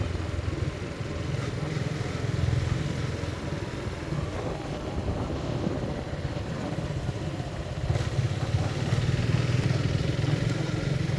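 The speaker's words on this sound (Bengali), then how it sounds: "এক হাতে গাড়ি চালানো, মোটরসাইকেল চালানো, আর এক হাতে ভিডিও করা খুবই টাফ" A motorcycle ridden along a village road in Noakhali, its engine droning steadily and loudly throughout, mixed with continuous wind rumble.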